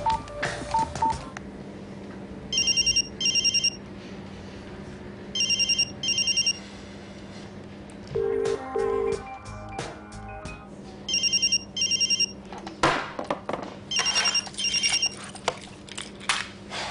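Mobile phone ringing on a call: a repeating electronic ring in evenly spaced double bursts over a steady hum, with a few short dialing tones in the middle. Moderately loud and close, with no one talking.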